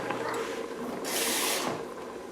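A short burst of hissing splash as about half a cup of water is poured into a hot pan with sauce, lasting about half a second over quiet kitchen background noise.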